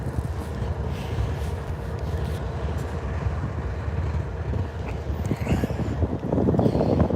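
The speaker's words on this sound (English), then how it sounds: "That's also the air compressors." Air compressors on a train locomotive charging the air brakes, a steady mechanical hum and chugging rumble with wind-like noise that holds throughout and grows slightly louder toward the end.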